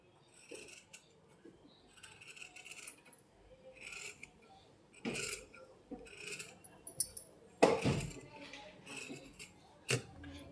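Scissors cut through blouse fabric up close in a series of crisp snips and rasping slices, irregular and fairly quiet, with a few louder cuts toward the end.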